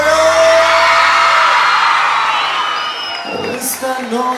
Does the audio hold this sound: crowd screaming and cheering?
yes